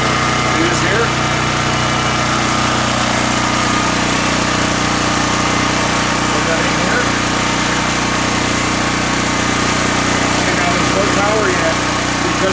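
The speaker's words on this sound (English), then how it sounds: "we're going to go outside and we're going to get the generator going" A portable generator engine runs steadily outdoors, a constant droning hum with a buzzy mechanical edge, loud and unbroken throughout, with people talking faintly beneath it.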